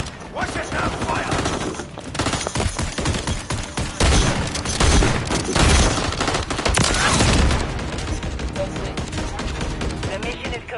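A video game firefight with dense rapid gunfire bursts and machine-gun rattle, loud and close, layered with shouted voices throughout the sustained exchange.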